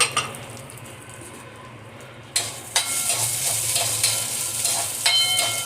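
Toor dal, fenugreek seeds, dried red chillies and cumin are dry roasted in a pan. After a quiet start, loud scraping and rattling stir strokes follow one after another at close range.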